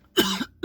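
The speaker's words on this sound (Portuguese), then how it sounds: "vou tossir agora" Two sharp coughs from a man, close and loud, the first longer with a rough tail and the second short, separated by a brief pause, with no talk.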